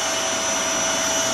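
A household vacuum cleaner runs steadily and loudly up close, a constant broadband roar with a high whine, used indoors to suck up a spider from a blanket.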